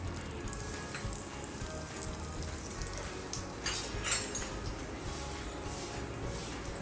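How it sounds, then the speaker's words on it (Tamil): Vadagam sizzles in hot ghee as it is tempered for rasam, a soft continuous crackle and hiss with a few brief pops. "நான் வந்து வடகம் தான் தாளிக்க போகிறேன்"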